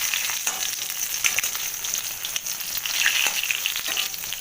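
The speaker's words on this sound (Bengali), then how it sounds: "পটলগুলো ভাজা হয়ে যাচ্ছে আমি তুলে ফেলছি" Slices of pointed gourd (potol) frying in oil, a bright steady sizzle with small crackles and occasional bursts as pieces are moved in the pan.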